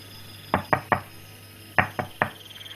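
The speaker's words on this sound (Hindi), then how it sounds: "अचानक फिर दरवाजे पर खटखट होने लगी" Knuckles rap on a door in two sets of three sharp knocks separated by a short pause, close and distinct against a quiet room with a faint steady hum.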